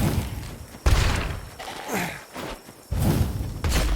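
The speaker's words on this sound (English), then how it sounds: "Run into the explosion." In the video game Dysmantle, booming explosions hit with heavy low thuds and broad noisy bursts, several in quick succession, loud and close.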